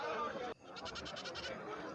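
At a goat market, a young male goat lets out a quick, wavering bleat with a rapid pulsing tremble, heard amid the steady murmur of people talking nearby.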